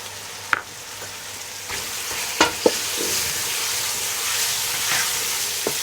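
Tomatoes and slit green chilies sizzle steadily with ginger and garlic in a hot pan on a kitchen stove. A few sharp spatters and stirring clinks rise over a constant frying hiss, with no talking.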